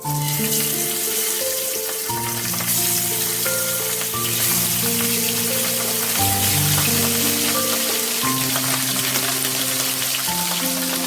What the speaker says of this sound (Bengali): তেলটা গরম হয়ে গেছে এবার গ্যাসের ফ্লেমটাকে কমিয়ে দিলাম দিয়ে এবার মাছগুলোকে দিয়ে দেবো